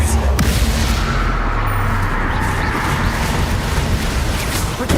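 Bombarda spell explosion in Hogwarts Legacy, a loud booming blast that rumbles on with crackling debris and dense combat noise throughout.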